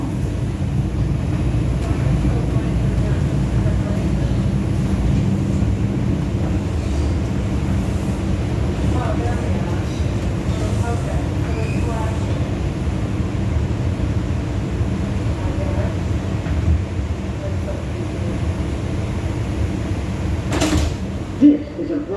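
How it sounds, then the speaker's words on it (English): A New York City Bronx-bound 2 express subway train runs steadily, with a continuous loud low rumble and rattle of the car in motion and a brief clank near the end. "This is a Bronx-bound 2 express train."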